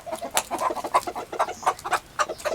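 Homestead chickens, roosters and hens, cluck in a busy, overlapping chatter, close and steady throughout with no talking.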